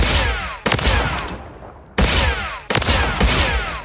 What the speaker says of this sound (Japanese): スナイパーライフルですね。